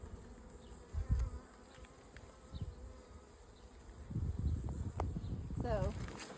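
Honey bees buzz steadily around an open hive while beekeepers work at it, the hum swelling and fading as insects pass close, with a louder burst of buzzing near the end and occasional scraping and handling noises.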